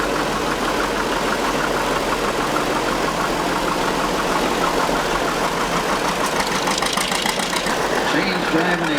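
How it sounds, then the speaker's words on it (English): A vintage Minneapolis tractor engine chugs steadily throughout with a mid-pitched knocking rhythm, close by and fairly loud, with a voice talking over it, during a parade in Winifred, Montana. "Minneapolis tractor that his dad purchased."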